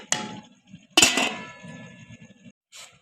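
Metal pot lid lifted off a cooking pot of fish pulao, two sharp clinks and clatters close by, the second louder with ringing metallic resonance, then a brief rustle.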